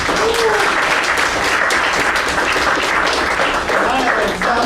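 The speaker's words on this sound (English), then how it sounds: "give her a big round of applause" An audience applauds the event organizer at the end of a meeting, loud sustained clapping that fills the room, with some voices faintly mixed in.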